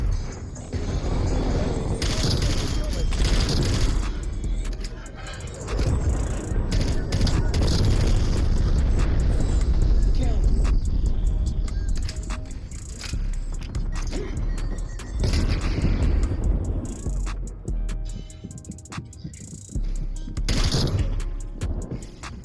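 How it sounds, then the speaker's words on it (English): Enemy sentry turrets fire in the Call of Duty Cold War shooter, a loud, continuous barrage of booming gunfire and crashing impacts that keeps going for most of the stretch, with excited voices talking over it. "They got sentry turrets everywhere."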